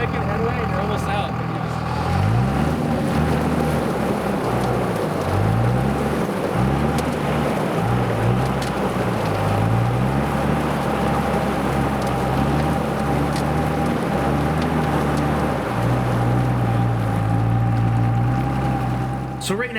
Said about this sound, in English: That back left wheel is the only wheel moving, and all that's doing is digging me deeper down.